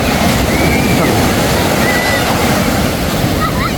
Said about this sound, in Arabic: اكتشفوا امواج البحر